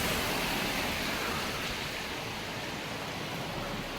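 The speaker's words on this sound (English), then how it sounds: "pouring rain" Steady pouring rain, a dense continuous hiss that stays loud and even throughout with no pauses or voices.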